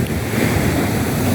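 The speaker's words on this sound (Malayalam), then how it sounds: "മഴയൊക്കെ പെയ്ത് നല്ല കടൽ നല്ല തിരയുണ്ട്" Sea waves roll in at Poonthura beach after rain, a loud continuous roar of surf mixed with strong wind buffeting the microphone.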